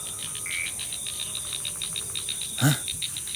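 Frogs croaking during a night outing at a resort in Yogyakarta, a steady pulsing chorus with insect-like trills carrying throughout, plus a brief louder knock near the end.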